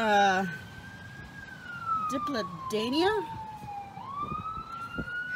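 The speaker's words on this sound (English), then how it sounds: "can you hear that siren?" A wailing emergency siren sweeps steadily in pitch in the distance, with a brief word spoken and some street noise underneath.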